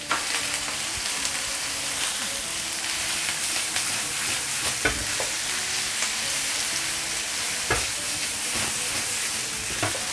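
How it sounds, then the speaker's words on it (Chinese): Chopped onion stir-fries on high heat before tomatoes go in, a continuous loud hissing sizzle lasting several seconds, punctuated by occasional clicks and scrapes of the spatula against the wok, without any speech. "这时候就开最大的火，一直去炒它，把这个洋葱炒香之后，接下来我们下入番茄"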